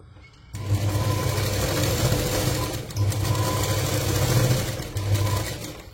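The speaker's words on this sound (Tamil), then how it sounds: "இப்போ இந்த இதுல நான் ஸ்டிச்சஸ் போடுறேன்." A sewing machine stitches fabric in several bursts of rapid, rhythmic mechanical chatter separated by short pauses, with no talking.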